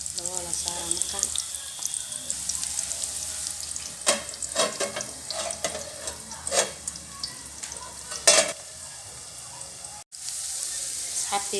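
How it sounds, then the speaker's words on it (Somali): Garlic and onion sauté in a hot pan for a pasta dish, a steady sizzle running throughout, broken by bursts of utensil scraping and stirring clatter and a brief dropout near the end. "xoogaa uu isku huurtay toontii iyo basashi"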